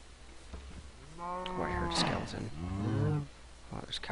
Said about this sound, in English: there's cows everywhere